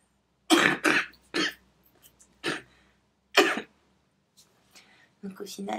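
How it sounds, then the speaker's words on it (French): Several harsh coughs from a sick woman in quick bursts, close and loud, separated by short pauses, with a little quiet talk near the end. "je vais beaucoup tousser en parlant"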